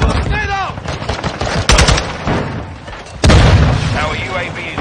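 Video game gunfire in Modern Warfare 2 multiplayer: steady bursts of automatic weapon fire with two sharp, loud blasts from a grenade and gunshots, while voices shout commands over the battle.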